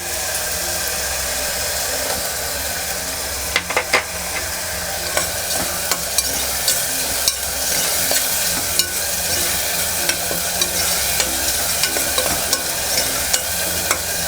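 Tomatoes sizzling and frying in a reddened masala paste in oil for a Bihari-style chicken curry, a steady loud hiss running throughout with occasional spoon scrapes and clinks, no talking.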